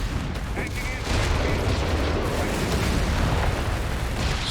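Gunfire and explosions from the WWII strategy game Company of Heroes 3, with bazookas and anti-tank guns firing in a 2v2 match on Dunkerque; dense, continuous battle noise with repeated booms and bursts, fairly loud throughout.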